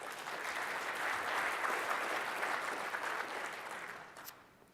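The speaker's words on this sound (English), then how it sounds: "Applause is fine." Audience applause fills a large keynote hall at a Windows 10 IoT Core and Raspberry Pi 3 tech conference, a dense steady wash of clapping that holds loud for about four seconds before thinning out at the end.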